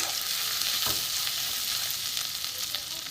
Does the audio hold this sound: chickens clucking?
no